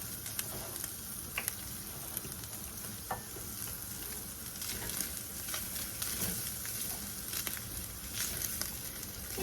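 Flour frying in sausage grease in a pan, a continuous dense sizzle and crackle with faint stirring noises, steady and close throughout without talking.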